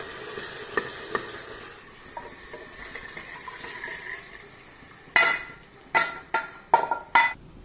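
Masala for kadhi sizzling and frying in oil in a pan, a steady crackle broken near the end by several sharp, close scraping stirs.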